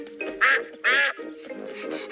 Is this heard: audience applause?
no